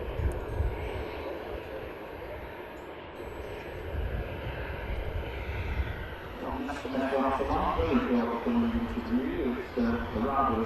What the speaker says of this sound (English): Look at this KLM A321 Neo